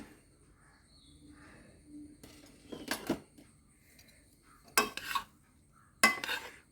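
A pot lid is lifted to check mushroom biryani rice cooked Kerala style, giving a few sharp metallic clanks and scrapes in separate bursts against a quiet kitchen background.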